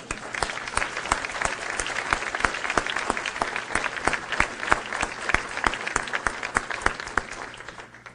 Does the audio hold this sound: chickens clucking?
no